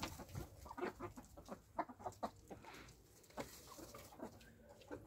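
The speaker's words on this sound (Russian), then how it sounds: "Вот петух." Hens cluck and a rooster murmurs nearby in a chilly winter henhouse, a steady, busy chorus of short calls, with a low background hum.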